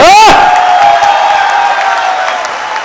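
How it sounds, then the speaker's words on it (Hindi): A crowd at a Hindi poetry recitation claps and cheers after a loud opening whoop, a steady wash of applause with a lingering tonal ring underneath. "तालियां बजा सकते हो?"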